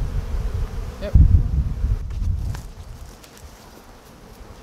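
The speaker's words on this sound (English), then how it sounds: "Now you can see all the bees on top again." Steady buzzing of many bees close by during a beehive transfer, with a brief thump and rustle partway through, and a single short spoken word.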